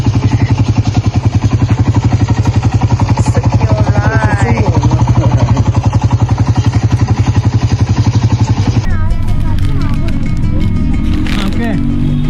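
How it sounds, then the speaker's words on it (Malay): A motorcycle taxi engine on a road between Besham and Gilgit, Pakistan, rumbles steadily and loudly throughout while people talk over it, with the tone changing near the end. "Motor taksi."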